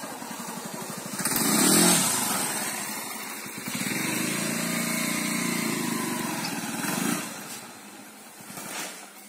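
A Bajaj Pulsar 150 motorcycle engine running nearby, idling with a light buzzy tone and then holding a steadier raised drone for several seconds before easing back down, loud and alone without speech.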